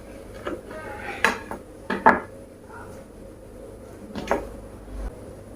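A knife cuts through dough or food on a board in a home kitchen, giving a few sharp, separate knocks and scrapes against a background of light dish and utensil clatter, fairly close and with no talking.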